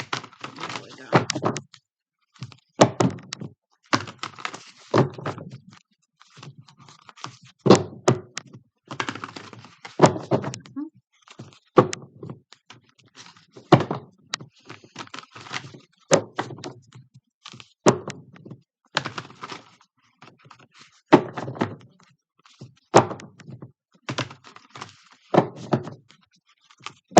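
A deck of ancestor messages oracle cards is shuffled by hand in a quiet room, giving repeated short papery riffles and taps in irregular bursts, fairly close and soft.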